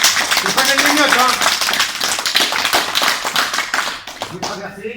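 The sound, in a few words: audience applause at judo ceremony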